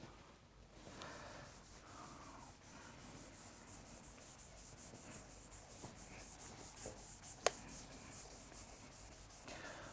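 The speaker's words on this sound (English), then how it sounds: "I will erase this part now." A board being erased during a lecture on slipping and rolling: a faint, steady rubbing and scrubbing texture that runs the whole time, with one sharp small tap partway through and no talk.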